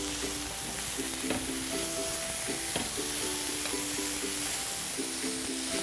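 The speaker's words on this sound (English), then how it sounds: "The burgers have been cooking for about 3 minutes." Kona coffee rubbed lamb slider burgers sizzle steadily in a pan, a close, even frying hiss with faint tonal background music and no talk.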